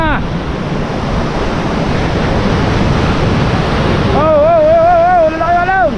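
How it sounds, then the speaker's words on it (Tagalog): Big ocean waves in a typhoon roar around a small outrigger boat, a loud, steady rush of surf and wind, and a voice shouts over it near the end. "Oh, lalaki alon."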